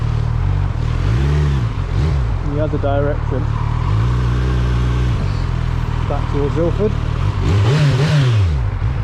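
A 2025 Kawasaki Z900 ABS motorcycle engine rumbles steadily while riding, its pitch rising and falling with throttle changes, under wind noise and a rider talking.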